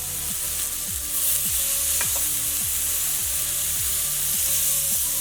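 Salmon with lemon sizzles loudly and steadily in a frying pan just after being flipped, a dense, continuous hiss with light music playing underneath.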